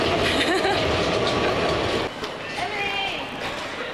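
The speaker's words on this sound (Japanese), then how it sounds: "やってきたのは地下鉄のホーム。" A New York subway train at an underground platform rumbles and clatters loudly, then eases into a fainter rolling hiss with some wheel squeal.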